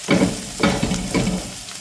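Dill seeds frying in a pan, with a close, steady sizzle broken by a few scraping stir strokes and no voices.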